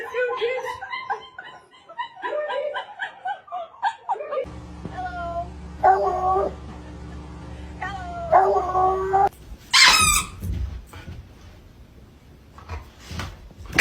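Puppies riding in a box inside a moving car yip and bark in short bursts, with whiny howl-like cries mid-clip, set over low road rumble, while people laugh and chatter nearby.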